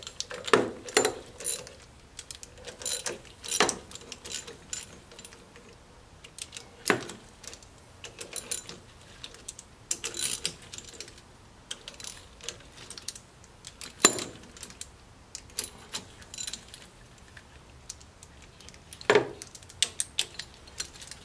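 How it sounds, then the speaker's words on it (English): Torque wrench tightening parts during valve stem seal replacement on a Nissan H20 engine with the cylinder head on, sparse metallic clicks and ratcheting taps spread irregularly over a quiet workshop background. "You need a torque wrench to tighten this back up."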